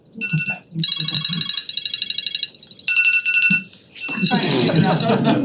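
A phone alarm rings during a public town board meeting, a loud repeating electronic ringtone in bursts with short pauses, close to the microphone, with voices mixing in near the end.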